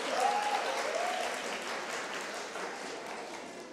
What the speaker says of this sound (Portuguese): vocês podem aplaudir a garrafa